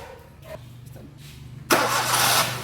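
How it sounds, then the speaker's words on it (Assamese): A secondhand car's engine being started: quiet idle hum and small clicks, then the motor cranks and catches loudly about halfway through, settling into a strong steady running roar. "মই এখন গাড়ীখন ষ্টাৰ্টটো দি দেখুৱাইছোঁ।"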